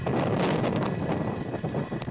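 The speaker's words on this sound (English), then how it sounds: "Engines full power. And liftoff of Starlink 2-4." A SpaceX Falcon rocket's engines roar at liftoff on a Starlink launch, a loud, continuous rumbling blast with wind-like crackle and gusting texture and no voices.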